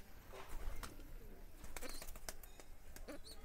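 Pigeons kept in a cage at a home loft give soft coos and brief wing flutters, close and moderately loud against a steady low background rumble, with no talking.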